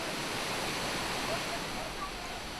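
Broad, steady rush of water from a waterfall spilling down a mountainside at Caesarea Philippi in dry Israel, a continuous close wash of noise with no breaks.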